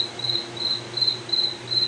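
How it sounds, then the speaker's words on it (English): A cricket indoors near farm tools, chirping in short regular pulses about every third of a second, close and steady against a low hum. "got a cricket in here."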